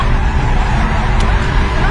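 A Ford Mustang corners hard, its engine roaring loud and constant with a broad rushing tire-and-road noise that hints at skidding, recorded from inside the car.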